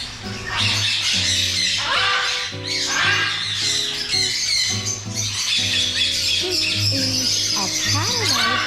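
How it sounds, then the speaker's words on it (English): Birds at a pet market in Dubai squawk loudly and repeatedly, harsh close calls overlapping with chirps and whistles in a busy indoor setting, with faint voices in the background. "A paradise of birds."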